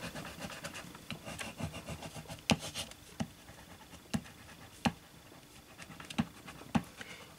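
Wax crayon rubbed back over coloured areas of a craft piece, producing soft scratchy rasping strokes with several sharper scrapes at irregular intervals, quiet and close, with nobody speaking.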